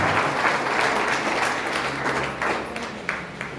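An audience at a stage show in Gokak claps. The applause is a dense, steady patter that swells and fades slightly over a few seconds.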